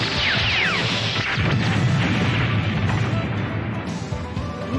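Fire fountain being smashed and destroyed in a sci-fi audio drama, a dense, sustained crashing roar with a falling whistle near the start, loud and continuous for several seconds.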